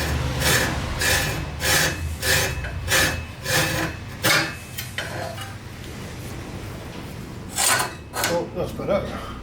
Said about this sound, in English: Try the hacksaw.